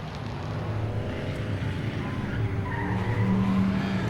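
Race cars roar around the front straightaway at Langley Speedway during a 50-lap enduro, a loud continuous engine drone with tire squeal, while a commentator talks over it.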